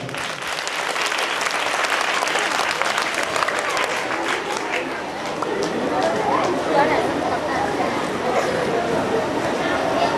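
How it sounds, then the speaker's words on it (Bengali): Loud, sustained audience applause fills a school golden jubilee prize ceremony hall, dense clapping from a large crowd continuing steadily throughout. "তাদের জন্য আবার একটা জোরে হাততালি।"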